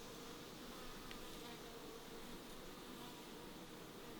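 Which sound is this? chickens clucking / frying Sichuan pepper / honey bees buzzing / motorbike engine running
honey bees buzzing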